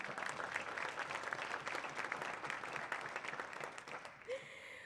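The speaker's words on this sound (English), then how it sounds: "yes, please applaud." An audience at a gala dinner applauds the honorees, a dense, steady round of clapping that fades near the end as a faint tonal sound enters, heard at a moderate distance.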